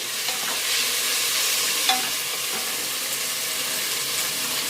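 Green chillies fry with a steady broadband sizzle while being stirred for veg pulao, a brief utensil clink cutting through midway; nobody speaks.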